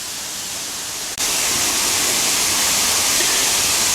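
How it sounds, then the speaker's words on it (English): Glen Falls waterfall in a boulder-strewn creek gorge pours in a steady, loud broadband rush that briefly dips about a second in, then continues full and constant with no voices. "So it's not a spectacular waterfall, but it's okay."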